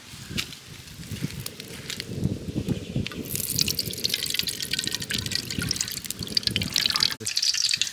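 Coconut oil is poured into a pan for frying onions for a Kerala-style fish biryani cooked village style: a close, steady liquid trickle, then a brighter hissing wash as the oil keeps flowing.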